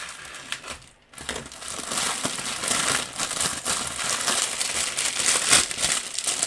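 Crinkly paper craft packaging being cut apart with scissors: steady close crackling and crumpling with brief snips and rustles, one short pause, no talking.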